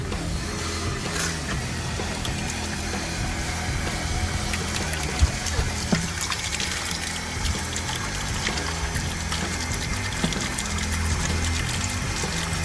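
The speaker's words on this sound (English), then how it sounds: "And we'll turn the cold water on." Cold water runs from a hose hooked up to a sink, giving a steady, close rushing flow with slight splashing that keeps going unbroken for the whole stretch.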